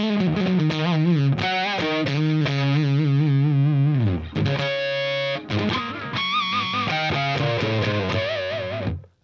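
Heavily distorted electric guitar through a HipKitty Chameleon effects pedal pushed to an extreme setting, playing a run of gnarly, wavering notes and ringing chords, loud and close, fading out at the end.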